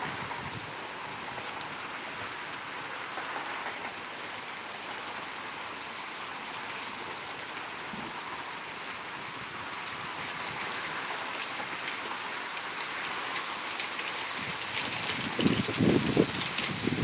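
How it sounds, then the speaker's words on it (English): Steady rain from a thunderstorm in Pittsburg, Kansas hisses evenly throughout, a dense wash of patter with a slight swell toward the end, no voices. "Rain is picking up."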